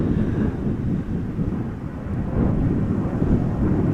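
A Transavia airliner at Amsterdam Schiphol Airport makes a distant, broad low roar that swells and eases slowly, muffled by wind on the microphone, with no talk.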